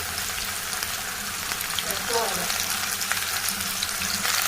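Chopped okra frying in hot oil with mustard seeds, cumin and onion in a pan on the stove, a steady soft sizzle with a brief stirring scrape midway.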